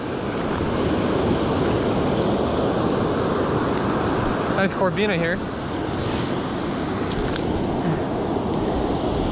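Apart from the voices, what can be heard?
ocean waves breaking on beach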